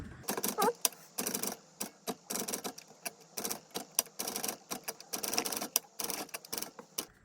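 A 1964 Smith Corona Galaxie manual typewriter typed on at a steady clip, crisp clacking keystrokes arriving in quick bursts separated by short pauses, close and clear with no talking.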